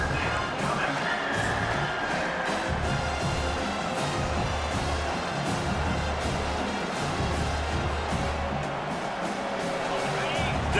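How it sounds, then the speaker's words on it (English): Stadium crowd in a college football video game cheering and roaring steadily on third down, a dense continuous wall of noise with a commentator speaking over it. "Decibels rising as the crowd gets behind this defense on 3rd down."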